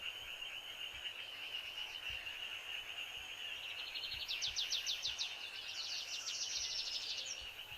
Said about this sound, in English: Can we type in birds? Like chirping?